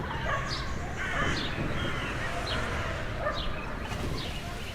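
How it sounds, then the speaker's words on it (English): Watchmen creatures in the post-apocalyptic game Metro: Last Light give dense, overlapping growls and yelping howls, a steady animal clamor that fills the whole stretch with high cries rising over it. "Hearing growls and howls as watchmen approach"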